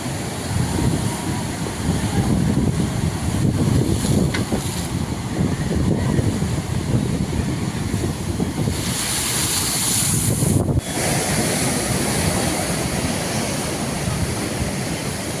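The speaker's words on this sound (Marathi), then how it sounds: "समुद्रात उसळणाऱ्या लाटा रस्त्यावर उलटत होत्या" Sea waves surge and crash over a coastal road in the Konkan region despite a protective seawall, a continuous loud roar of surf mixed with heavy wind buffeting the microphone, with no talk.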